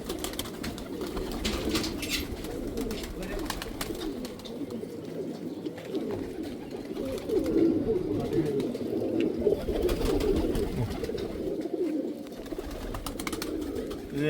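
Pigeons kept by a pigeon-flying enthusiast coo steadily and densely at close range, with occasional wing flaps and chirps over a continuous flock murmur.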